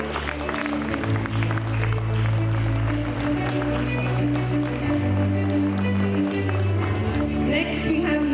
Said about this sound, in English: Let's give a huge round of applause to Sharanya.